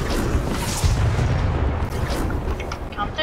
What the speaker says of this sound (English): There's an airstrike.